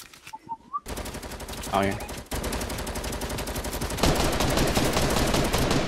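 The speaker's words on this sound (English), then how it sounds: "Shooting southeast." Rapid automatic gunfire in Fortnite, a continuous stream of closely spaced shots, loud and near, running almost nonstop after a short lead-in with a player's brief exclamation.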